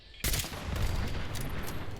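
A sniper rifle fires once in Fallout 76: a sudden, loud, sharp crack followed by a long, dense rumbling tail that fills the rest of the moment.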